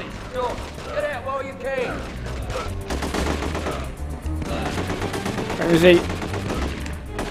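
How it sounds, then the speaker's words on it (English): Continuous video game gunfire rattles in The Getaway on PS2, with overlapping rapid bursts and single shots in a busy firefight, and a voice speaking briefly over the shooting. "while they're shooting each other"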